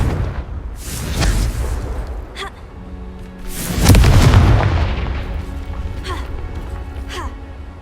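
A Confringo spell explodes in the video game Hogwarts Legacy, a loud booming blast with rumbling low end that swells and slowly decays, preceded and followed by crackling magical effects.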